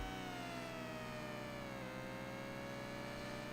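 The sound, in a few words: buzzing engine noise in an emulated Namco racing video game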